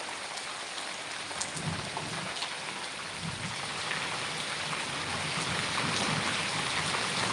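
Steady rain falls with a dense hiss, growing slightly heavier toward the end, with faint low rumbles underneath.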